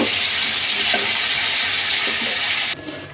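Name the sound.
potatoes frying in hot oil with turmeric and salt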